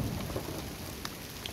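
Steady rain falls in a Nepali town, a dense hiss of drops on surfaces with a couple of sharper nearby drips, constant and unbroken with no talking.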